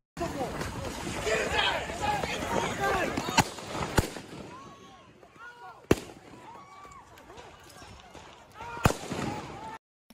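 Sharp, loud bangs from Kyle Rittenhouse's gunfire, heard in played footage, ring out over a noisy crowd, with a few more isolated cracks following as the commotion settles; people shout and talk throughout.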